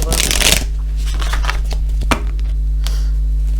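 A deck of tarot cards is shuffled up close, with a loud rapid riffle followed by softer flicks and slides of cards against each other, over a low steady hum.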